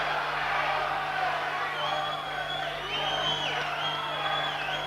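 A boxing arena crowd roars and whoops in a sustained wall of cheering for Michael Watson during his fight with Craig Trotter, steady and fairly loud.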